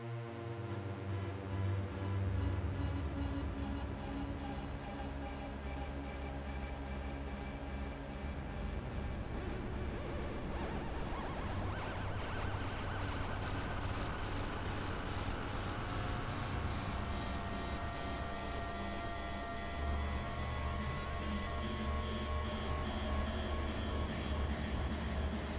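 Epic cinematic synth texture in a Hans Zimmer, Dune-like mood, built in Reaktor: a dense, sustained, evolving drone with a rapid pulsing shimmer, steady and moderately quiet throughout.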